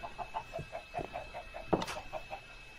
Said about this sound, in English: at least she's got some chickens down below decks